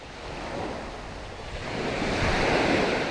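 Ocean surf breaking at the water's edge on a shore where fish are being caught, a steady broadband wash of waves that swells louder toward the end, with some wind noise and no voices.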